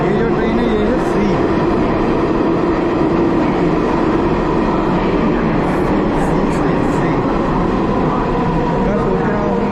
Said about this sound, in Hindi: ये जो ट्रेन है ये है सी।